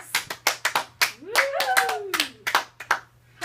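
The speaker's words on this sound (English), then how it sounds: "Everybody give him a big round of applause." A handful of people clap in sharp, separate bursts for a guest arriving on a show, close and fairly loud, while a voice lets out a rising and falling whoop in the middle.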